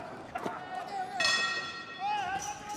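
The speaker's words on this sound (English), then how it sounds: "The bell sounds." A ring bell clangs once at a New Japan Pro-Wrestling tag league event, a brief metallic ring heard under steady commentary and arena background.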